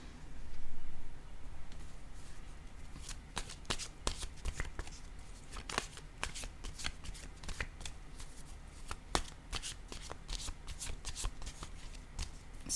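Tarot cards shuffled by hand, a steady run of crisp riffling flicks and soft slaps close up, repeated through the whole stretch with no talking.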